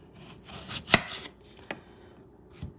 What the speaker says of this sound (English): now you want to cut this into the slices that you want, about 1/4 inch